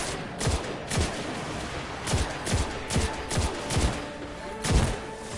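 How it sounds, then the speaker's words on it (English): An exotic scout rifle fires in Destiny 2, about nine sharp, punchy shots at a semi-regular pace with brief gaps between, loud and close with no speech. "I've got my Jade weapon. It's a scout rifle. An exotic scout rifle at that,"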